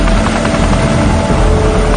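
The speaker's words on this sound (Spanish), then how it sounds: "Se usan helicópteros Chinook para lanzar el agua desde el aire." A Chinook helicopter flying overhead while dropping water on the Fukushima reactors, a steady, loud rotor and engine roar with deep low throb that holds for the whole stretch without any break.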